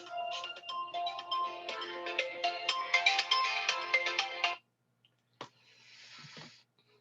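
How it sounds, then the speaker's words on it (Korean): A mobile phone ringtone plays for an incoming call, a loud, bright, chiming melody that runs for several seconds and then cuts off abruptly, leaving a short click and a soft hiss. "아이고, 전화가 왔네."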